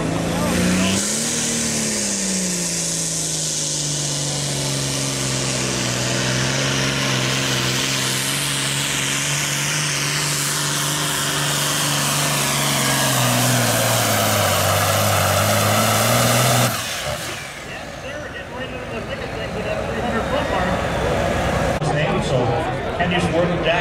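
A John Deere Super Farm class pulling tractor at a 9300 lb tractor pull runs hard under load, its engine drone holding steady then rising in pitch before dropping off abruptly, with an announcer talking over it.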